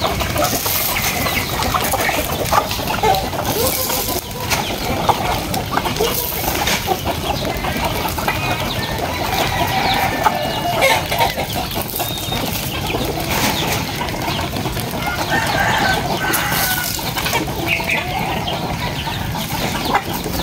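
A flock of chickens clucks and squawks continuously while being fed, a dense, loud, close chorus with occasional wing flaps and no talk.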